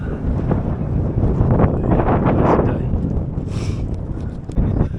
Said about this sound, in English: very windy up here, on the top